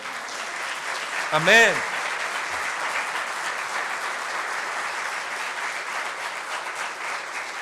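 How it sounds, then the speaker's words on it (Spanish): A church congregation gives a sustained round of applause as an offering of praise, steady clapping filling the room throughout, with a brief spoken interjection near the start. "¿Le da una ofrenda de palmas al Señor?"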